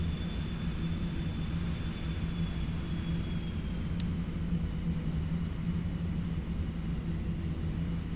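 Steady, loud jet engine drone from a BAE 146 airliner landing in the flight simulator X-Plane 11, a continuous rumbling roar that holds evenly throughout with no talk.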